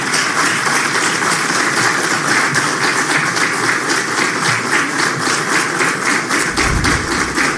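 An audience at a Dominican government announcement gives loud, continuous applause, a dense, even stream of clapping that stays close and full throughout.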